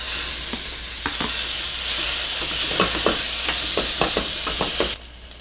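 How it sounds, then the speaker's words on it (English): Lamb meat browning in a hot pan for Algerian loubia b'lham, a steady loud sizzle with scattered crackles and stirring scrapes, cutting off sharply near the end. "And just start browning the meat."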